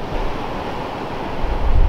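Ocean waves break at a surf spot, a steady wash of surf with wind noise that swells louder toward the end, with no talking.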